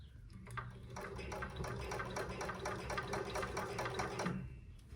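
A blind stitch sewing machine hems sheer drapes, running steadily with a fast, even mechanical chatter close by from start to nearly the end, then stopping abruptly.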